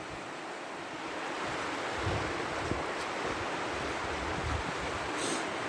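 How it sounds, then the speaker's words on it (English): Rushing river water far below a wooded hiking trail, a steady broadband roar of flowing water with some wind buffeting, continuous and fairly loud throughout with no voices. "do you see down there through the trees is the river rushing?"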